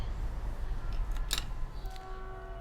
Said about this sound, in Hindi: तो बिल्कुल इसको नीचे से ना काटें, थोड़ा सा ऊपर से काटें।